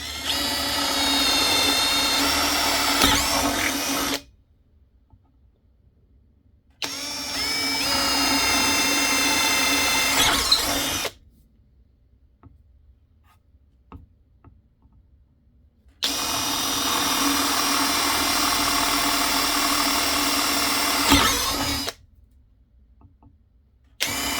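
A power tool drills holes in a wooden drawer, heard as three long, steady whirring bursts separated by short silent pauses.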